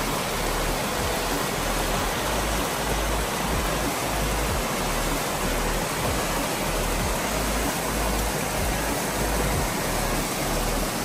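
A shallow stream along the Devkund Waterfall trek in Maharashtra rushes steadily, a loud and continuous roar of flowing water with no voices.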